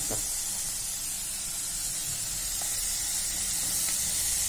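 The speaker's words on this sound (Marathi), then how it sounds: "जरा वेळ भाजी परतली मसाल्यामध्ये की मग त्यात टाकूया आपण गरम पाणी" A loud, steady hiss and sizzle as hot water hits a pan of cauliflower frying in spices, spitting continuously without pause.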